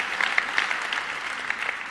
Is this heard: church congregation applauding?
yes